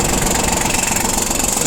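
A Kubota L205 mini tractor engine runs close by, with a steady rough knocking chug and rattling vibration throughout.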